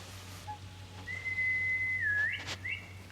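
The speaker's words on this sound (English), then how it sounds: "Still got that good whistle." Long, clear whistle from a character in the video game Ghost of Yotei, a steady held tone that dips and rises at the end, with short chirps before and after over a faint hum, and no talking.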